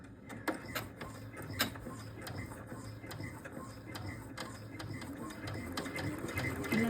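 An embroidery machine stitches fabric for Easter eggs with a fast, steady mechanical ticking and clatter, close and fairly quiet, growing a little louder toward the end.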